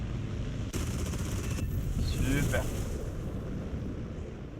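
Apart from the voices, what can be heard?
aircraft cannon fire in a flight combat video game, Yak-3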